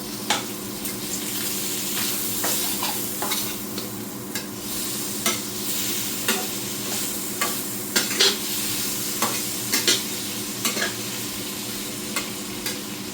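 Smokey sausage fries in a pan with a steady close sizzle. It is punctuated by repeated scraping and clacking as the pieces are stirred and turned.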